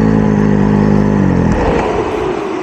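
A three-cylinder Benelli TNT899 motorcycle engine revs hard up close, a steady low harmonic growl climbing quickly in pitch before breaking into a rougher, higher roar, with no talk.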